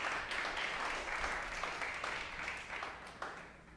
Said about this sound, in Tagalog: The best mong palakpak para kay Jesus.